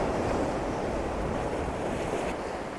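Rough surf at high tide breaks steadily along the shore, a continuous roaring wash of waves with wind buffeting the microphone, heard alone without any voices.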